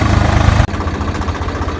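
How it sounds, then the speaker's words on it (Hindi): A tractor engine pulling a rotavator through wet farm soil runs at a steady, loud mid-low rumble, with a brief dip partway through before the even drone resumes, alone without talk. "बढ़िया ट्रैक्टर हमारा आराम से चल रहा है"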